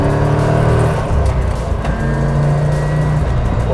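A Chevrolet Corvette C4 engine hums loudly from inside the car as it accelerates, a sustained low drone that drops and rises again through a gear change.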